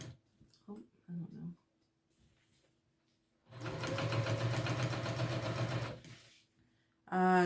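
A sewing machine stitches backpack fabric in one close, steady whirring run of rapid needle strokes lasting a few seconds, with brief speech before it and a short machine burst at the end.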